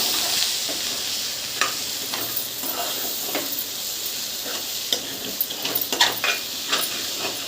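Cooked gongura leaves being stirred through a pot of boti (goat tripe) curry, a continuous sizzle broken by repeated scraping and clinking strokes of the spoon, close and fairly steady, with no one talking.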